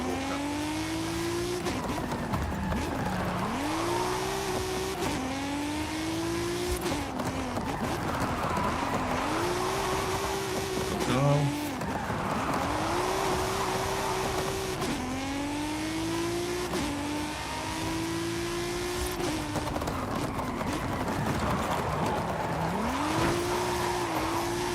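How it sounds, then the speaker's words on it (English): A race car in a racing game slides through corners with repeated tire squeals over a steady, revving engine whine that rises and falls in cycles, loud and continuous throughout. "Still slides this car, but just manageable."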